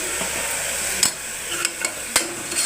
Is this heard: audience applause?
no